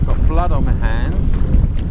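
A motorised bellyboat on the sea: its motor gives short whining bursts that rise in pitch as the throttle opens, under heavy wind buffeting on the microphone and splashing water.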